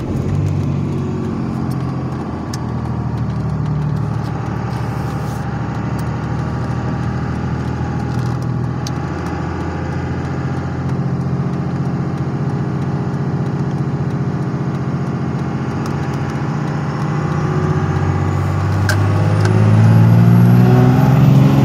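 A 1998 Dodge Ram 2500 pickup truck drives with a steady, loud mid-range engine drone heard from inside the cab, rising slightly near the end as the transmission shifts through gears.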